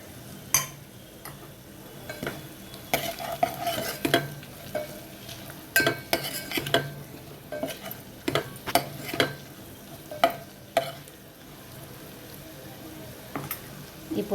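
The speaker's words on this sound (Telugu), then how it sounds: "ఇప్పుడు దీంట్లోకి కారం, పసుపు వేసుకుందాము." A spoon stirs and scrapes in a pan of tempering as chili powder and turmeric go in for horse gram soup (ulavacharu). Repeated clinks and taps sound over a soft sizzle, with no talking.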